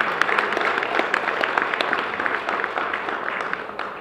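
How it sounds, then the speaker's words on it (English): Audience applause at a Black Economic Union 50th anniversary celebration, a steady dense wash of many hands clapping with sharp individual claps, sustained and loud throughout. "Please give them an acknowledgement, a round of applause."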